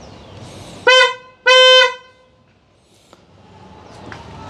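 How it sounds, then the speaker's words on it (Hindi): A high-tone Hyundai Creta car horn fitted to a Tata Nexon sounds in two close, loud blasts, the second slightly longer, with a quiet pause afterward. "अभी ये हॉर्न सिर्फ हाई टोन हॉर्न को ही टेस्ट करेंगे"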